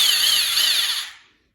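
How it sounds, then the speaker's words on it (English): A power drill spins a half-inch bit during home oil modifications to a Buick, Rover or Leyland V8 engine block, giving a loud, steady high whir that winds down and stops after about a second, with no talking. "I'll spin the drill, and you can see that it's actually the drill bit."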